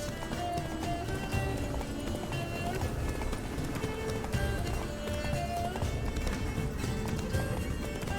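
Hoofbeats of a horse galloping in The Witcher 3 run steadily under a continuous music bed, with a dense clip-clop rhythm throughout and occasional voice-like sounds mixed in.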